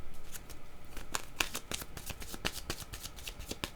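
Playing cards shuffled and drawn from a deck during a card reading, a dense run of crisp riffling flicks and snaps, close and fairly loud, with no voice.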